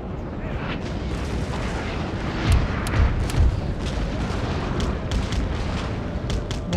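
Artillery cannon fire and explosions in the Napoleon Total War battle game, a continuous rumbling barrage with a few heavier booming thuds near the middle and scattered sharp cracks throughout.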